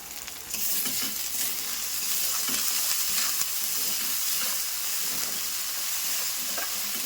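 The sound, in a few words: spice paste frying on high flame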